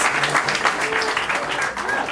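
Audience applause in a live show, a steady wash of clapping filling the whole stretch at moderate level with a faint voice underneath.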